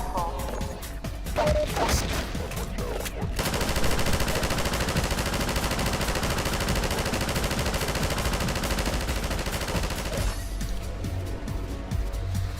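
An automatic turret in Half-Life 2 fires a long, continuous stream of rapid gunfire that lasts for several seconds, loud and dense, with impacts and crashes around it.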